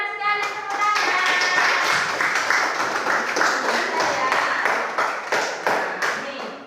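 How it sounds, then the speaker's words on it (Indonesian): A classroom of students claps in a short burst of sharp, fairly close hand claps. The claps overlap and then loosen into scattered individual claps as they taper off. "Benar sekali, tepuk tangan."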